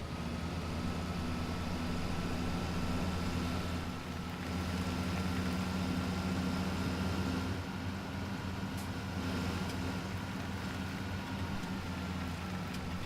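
A tractor engine in Farming Simulator 17 idles steadily with a constant low drone and a faint high whine, unchanging throughout.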